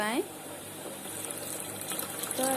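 Water poured from a vessel onto dates in a kitchen while making rasgulla tomato khatta, a steady close splashing gush lasting about two seconds, with a voice talking over the start and end.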